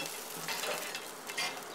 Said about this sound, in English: I'm now going to flip this meat over for a few minutes just to cook the meat on the other side.